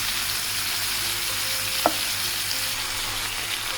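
Vegetables and pork bites sautéing in a pan, a soft steady sizzle with one brief clink of a utensil, no talking.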